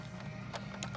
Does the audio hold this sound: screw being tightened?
yes